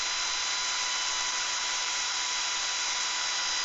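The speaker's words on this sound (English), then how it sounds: "I tend to first pre-drill at a straight angle like this, and then set the drill" Power drill boring a hole into a 3D printed fishing lure blank for a lipless crankbait, a steady high whining hiss held constant and close, with no talk.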